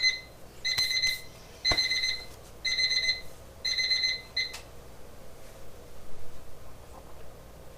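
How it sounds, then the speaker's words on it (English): A kitchen timer beeps while wild rice with apricots and walnuts cooks, sounding as about five quick, shrill bursts of rapid beeps in an even rhythm, then stopping over quiet room noise. "That would be my timer telling me it's time to add the apricots and walnuts to the rice."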